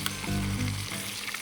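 Bacon frying in hot oil in a pan on a camp stove outdoors, a loud, close, continuous sizzle with a brief knock at the start, no talk.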